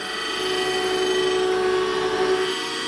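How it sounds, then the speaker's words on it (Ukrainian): A grinding wheel works a metal prism in a workshop, giving a steady, loud whirring hiss with a sustained ringing tone throughout, alone without talk. "Так, шліфанули грубо одну сторону, тепер бачите, вже круг працює тою стороною."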